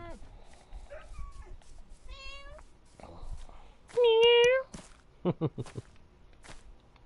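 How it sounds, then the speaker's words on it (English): A few short Minecraft Bedrock Edition cat meows come one after another, with one louder, longer meow in the middle and soft clicks or footsteps in between. "The sounds of Minecraft cats are so cute."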